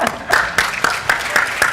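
An audience applauds after being urged to give themselves a hug and a clap, the clapping coming in rhythmic bursts roughly every quarter second, steady and moderately loud for under two seconds.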